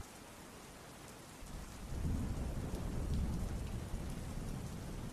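A rain and thunder sound effect for a spooky story: steady rainfall hisses quietly, then a low rolling thunder rumble builds after a second and a half and lingers, with no voices over it.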